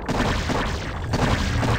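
Repeated heavy booming cannon shots blast at drones in a real-time strategy game battle, dense and loud throughout with overlapping impacts and no clear gaps.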